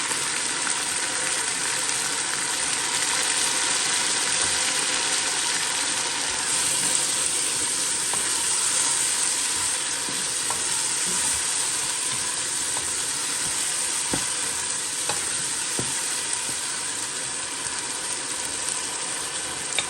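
Chopped tomatoes sizzle in hot oil for a chicken biryani, a steady dense frying hiss filling the whole stretch with occasional faint clicks of stirring, no talking.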